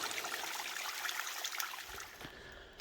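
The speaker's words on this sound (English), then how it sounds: "get me a fresh cold cup of water here" Fresh cold water trickles and splashes steadily into a cup from a source beside an Appalachian Trail hiking path in Georgia, a soft continuous stream with no talking.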